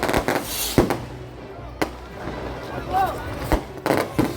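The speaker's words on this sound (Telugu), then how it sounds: "బాబు టపాకాయలు కాల్చడం ఆపండి అయ్యా" Firecrackers bursting at a Ravana Dahan Dasara celebration in Hyderabad: several sharp, loud bangs at irregular intervals, with crowd voices and talk in between.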